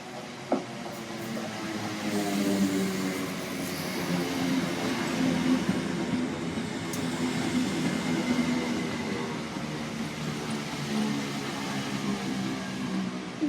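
A passenger train rolls through Shelford station with a continuous heavy rumble and rhythmic wheel clatter over the rails, fairly close and steady, no voices.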